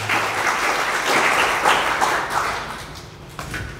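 A church congregation bursts into applause during a sermon, a dense wash of clapping hands that stays full and even for nearly four seconds before thinning slightly at the end.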